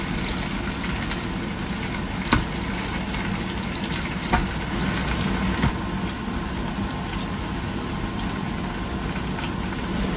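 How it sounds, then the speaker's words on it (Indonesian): Sambal chili paste sizzles as it fries in a pan, a steady close crackling hiss with a few sharper pops standing out over a low background hum. "sekarang aku mau goreng sambelnya"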